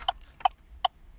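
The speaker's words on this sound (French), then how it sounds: "Ça, c'est le son du clignotant." Turn signal of an Opel Astra J ticking through an added speaker: four evenly spaced, sharp clicks about 0.4 seconds apart, close and moderately loud, with no voices.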